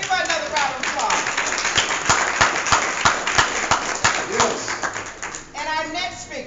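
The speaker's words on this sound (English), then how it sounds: "Give her another round of applause." A crowd at a women's wealth expo claps and applauds steadily for several seconds, with sharp individual claps standing out, while voices cheer and a speaker talks over it.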